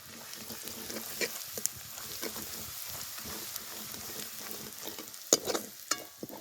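Drumsticks sautéing with cumin, coconut and garlic in a pan, a low crackling fry broken by repeated clinks and scrapes of stirring, louder knocks toward the end, no talk.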